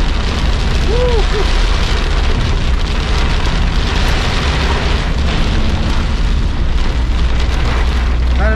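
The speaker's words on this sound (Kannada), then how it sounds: "ಇಲ್ಲಿ ಫುಲ್ ಮಳೆ ನೋಡಿ" Heavy rain pours down steadily and loudly throughout on a robusta coffee plantation, a dense continuous hiss of drops hitting surfaces close by.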